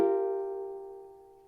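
A single ukulele chord is strummed once, ringing clear and bright, then decays smoothly over a second and a half with no other sounds.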